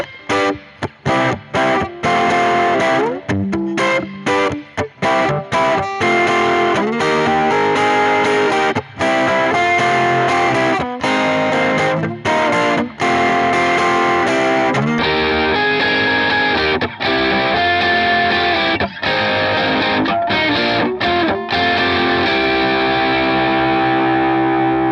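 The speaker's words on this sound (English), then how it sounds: "check out the funky, aggressive sound it makes using the pickup through a couple different amps and effects" A vintage acoustic guitar's pickup runs through several amps and effects, giving a loud, distorted, aggressive and funky tone. Chopped rhythmic strums and sustained chords carry on continuously, and the sound turns thinner and quieter partway through.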